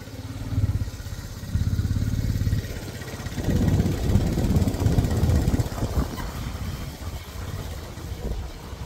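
Motorcycle carrying three riders on a village outing, its engine thrumming steadily up close, with a pulsing mid-range drone that swells and eases as it rides along.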